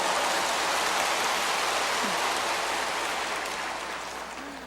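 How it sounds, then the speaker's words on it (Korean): Dense, steady wash of clapping from a large church congregation at a Bible exposition service, broad and even like heavy rain, fading slightly toward the end with no talking over it. "박수를 하려고 하면 화끈하게 해버리지."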